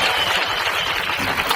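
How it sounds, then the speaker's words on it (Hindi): Audience applause at a Hindi poetry recital (kavi sammelan), a dense, steady burst of clapping from a crowd, loud and continuous for a short stretch. "जोरदार तालियां"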